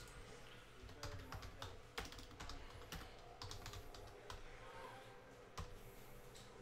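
Keys clatter on a computer keyboard during a sports card case break, quiet, quick irregular taps and clicks with a few sharper strokes, heard close over a steady low room hum.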